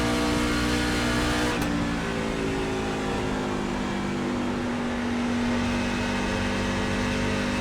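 Sustained engine drone from a NASCAR truck in iRacing at Homestead-Miami, holding a steady cruising pitch after a brief shift near the start; loud, constant and close, with no voices.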